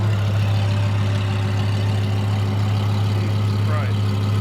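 A car idles loudly and steadily at a nighttime car meet, its deep low rumble constant and close throughout, with people talking over it.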